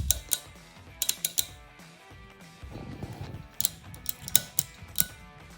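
Small adjustment screw on the second stage of a Triggertech Diamond two-stage trigger being turned, giving a series of sharp, close mechanical clicks in irregular bursts over a faint background rumble.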